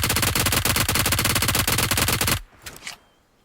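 Rapid automatic gunfire in the battle-royale game BGMI: a loud, dense burst of evenly spaced shots for about two and a half seconds, then a sudden stop followed by a few fainter distant hits.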